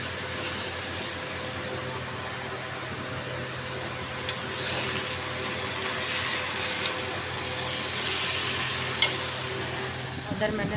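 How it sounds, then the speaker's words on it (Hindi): Cut vegetables frying in a pan in a home kitchen, giving a steady, soft sizzle that runs throughout with a few faint clinks and stirring touches near the end. "इधर मैंने सब्जी काट के चढ़ा दी है।"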